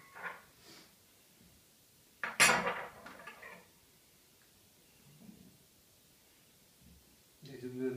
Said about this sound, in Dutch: Ga je bestek erin doen.